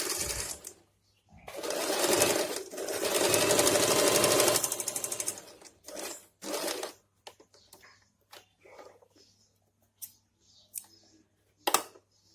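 A sewing machine runs loudly in long bursts while stitching a pant seam, with a steady low hum, then shorter runs and scattered clicks as the stitch is locked.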